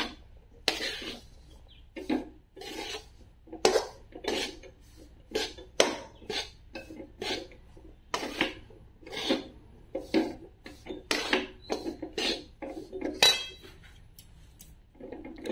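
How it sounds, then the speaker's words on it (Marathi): Gram flour roasts in ghee in a pan while a spoon stirs it steadily, giving repeated close rasping scrapes in an uneven rhythm, with no talking. "एक सारखं हलवत मी हे भाजून घेते"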